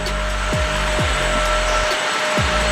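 A wet vacuum cleaner drones loudly and continuously across a studio floor, close up, with several soft low knocks as it is pushed around.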